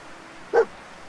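A single short bark from the dog companion Dogmeat in the video game Fallout 4, a lone close yelp over quiet ambient game background.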